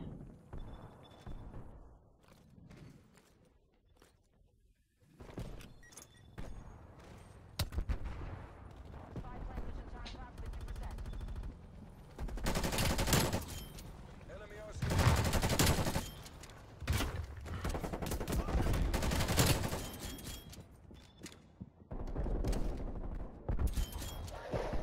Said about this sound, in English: See, I almost lose gunfights because of this gun.